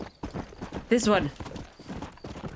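In the Red Dead Redemption video game, horse hooves clip-clop in a quick, steady beat and a short whinny rises near the middle, while someone talks over it.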